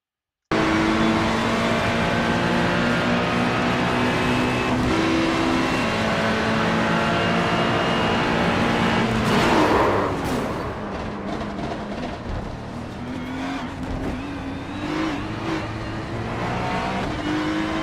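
GT3 race cars lapping the Charlotte Roval in a sim racing game, engines droning loudly at high revs, then dropping sharply under braking and climbing again with downshift blips as the car exits the corner.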